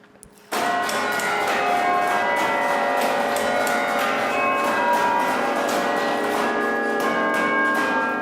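A bell starts ringing abruptly and keeps clanging rapidly and loudly, its metallic tones overlapping and ringing on without pause.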